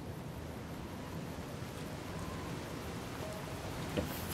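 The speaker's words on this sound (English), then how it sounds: "I just spent all the time waiting for the rain to end and now it's gonna rain again." Steady rain hiss in the Fallout: New Vegas video game, a soft, even wash of falling drops that continues without pause, faint and alone with no talking.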